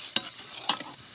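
Tamarind water being stirred into fish curry with brinjal in a pan: a couple of soft stirring scrapes and light bubbling, quiet and close, with no one talking.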